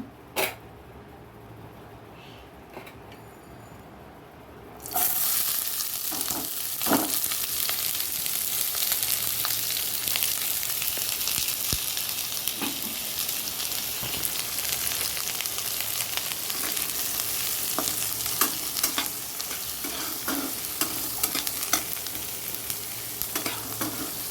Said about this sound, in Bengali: এখানটা হলো পেঁয়াজগুলো দিয়ে দিচ্ছি কড়াইটার মধ্যে